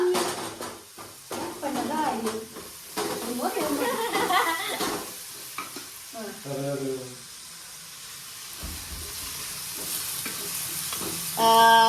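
Onions fry with salt in a pan in a Kerala home kitchen, a close sizzle with scraping stir strokes and clinks of utensils. Voices talk over it through much of the first half, and the sizzle continues alone afterward.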